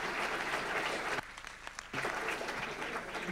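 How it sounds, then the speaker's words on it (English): Audience applause at a forum on unconditional basic income, a dense steady clapping that fills the room, briefly dipping before swelling back up to full strength. "let's give him a warm round of applause"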